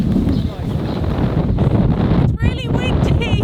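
Strong coastal wind buffets a microphone in a loud, steady broadband roar that never lets up, with a brief dip before gusting back in; a voice can be heard faintly over the noise.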